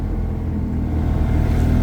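A loaded goods vehicle pulling away toward Satpur, its engine a steady, close, low rumble that swells slightly as it gathers speed, with no voices over it.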